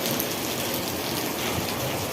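Rain falls hard and steadily, a close, even hiss of drops on surfaces with no voices over it.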